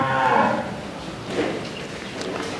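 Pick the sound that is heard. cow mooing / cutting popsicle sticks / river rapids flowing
cow mooing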